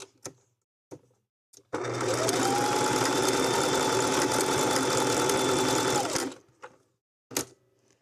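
A sewing machine runs a zigzag stitch in one steady burst of about four and a half seconds, loud and close, with a few light clicks and knocks before and after.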